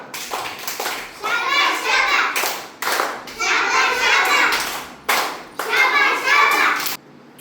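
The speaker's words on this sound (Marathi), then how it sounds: "आता शाबाश टाळी वाजून दाखवायची मला." Schoolchildren in a classroom clap together in a 'shabash' pattern, bursts of crisp group hand claps in rhythmic phrases separated by short pauses, loud and close, with a voice faintly mixed in.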